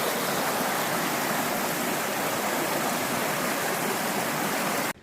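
Fast-running creek water rushing upstream of a wide stretch, a dense, continuous roar of flow that stays loud and steady before cutting off abruptly at the end.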